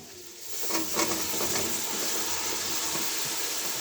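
Cauliflower pieces dropped into a pan already holding stirred peas, giving a steady broadband hiss of frying with a few soft clatters near the start, close and moderately loud, no voices.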